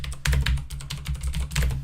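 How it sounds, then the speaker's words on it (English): Rapid clicky keystrokes from a Das Keyboard Model S Professional mechanical keyboard with Cherry MX Blue switches, close and fairly loud, typed in uneven bursts with no talking. "this keyboard does have Cherry MX Blue mechanical key switches with the gold contacts"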